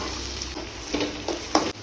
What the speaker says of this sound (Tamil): பூண்டு பொன்னிறமாக வச்சு 2 வெங்காயம் கட் பண்ணி வச்சுக்க, அதையும் போட்டுறேன்.